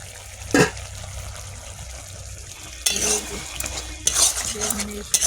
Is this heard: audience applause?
no